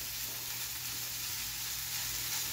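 Par-cooked risotto rice warming in melted butter in a pan gives a steady, soft sizzle with a faint high hiss that holds evenly throughout, close and alone.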